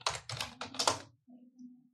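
Someone types on a computer keyboard: a quick run of close, crisp keystrokes in short bursts, followed by a softer pause.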